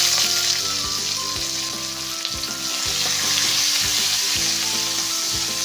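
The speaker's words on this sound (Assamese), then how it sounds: "পিঁয়াজখিনি অকণমান ভাজি ল'ম" Onions sizzle in hot oil in an iron wok, a constant bright crackling hiss with a few soft scraping stirs and low taps underneath, close and steady without speech.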